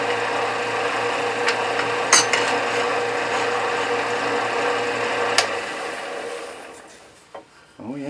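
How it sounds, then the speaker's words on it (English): Steady abrasive rubbing of 220-grit scrap sandpaper on an MSR Whisperlite camp stove part, a continuous close scratchy hiss that fades out near the end, with a couple of brief knocks. "I think I'm gonna start sanding this guy."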